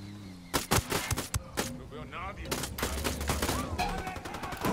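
Sniper and rifle gunfire in the Ghost Recon Wildlands video game: sharp, loud shots come in irregular bursts, some fast and clustered. A voice shouts over them.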